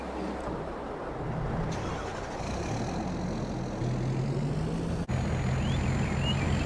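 A tractor engine droning steadily as it drives down a road in Farming Simulator 22, continuous mid-loud motor hum with slight pitch shifts and a brief clunk near the end.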